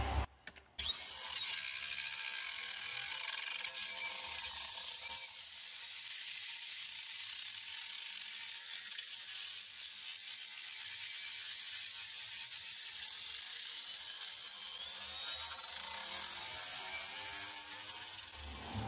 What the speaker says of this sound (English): So now I'll flip it over and I'll grind the other side.